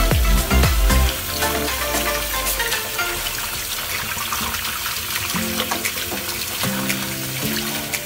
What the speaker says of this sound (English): So we should wash our hands with soap.